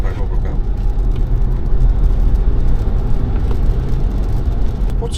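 A BYD Seal electric car accelerates on a wet road, heard from inside as a steady, loud low rumble of road and tyre noise with a faint whir.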